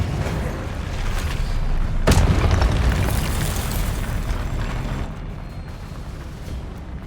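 A spell blast from the Hogwarts Legacy game, Expelliarmus, with a sudden sharp boom over a dense, rumbling roar of game sound that continues before tapering off.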